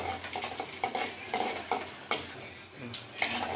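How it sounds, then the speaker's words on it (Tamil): Mustard seeds, fennel and dried chillies stirred in a hot pan for a liver fry, a spatula scraping and knocking against the metal over a soft sizzle, close and irregular, without speech. "இப்போ நம்ம கிண்டி விட்டுக்கலாம்"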